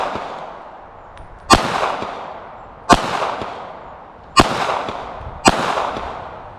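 Four loud, sharp gunshots from a .380 pocket pistol fired at targets on a range, spaced roughly one to one and a half seconds apart, each followed by a ringing decay.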